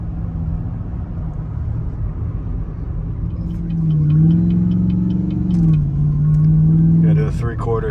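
Whipple-supercharged truck engine under way at partial throttle, a steady loud rumble with supercharger whine rising as load builds, with a person talking over it.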